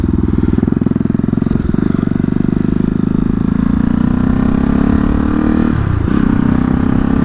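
Loud, close engine drone from a motorcycle out on a warm-up ride from cold, its steady rapid firing pulse holding through second gear with a brief dip in tone as it shifts.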